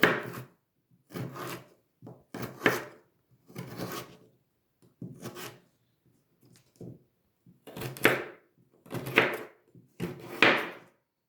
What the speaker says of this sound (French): Une fois la carotte épluchée, vous la coupez en deux. Encore en deux. Et on va faire des bâtonnets.